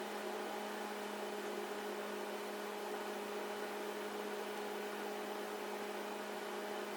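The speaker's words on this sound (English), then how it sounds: "Hopefully it doesn't explode in the microwave" A microwave oven heating an egg runs alone with a faint, constant hum and an even whooshing fan noise.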